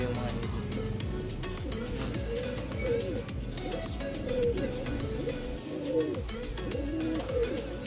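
Racing pigeons coo repeatedly inside a loft, their soft rolling calls overlapping in a steady chorus while someone talks throughout.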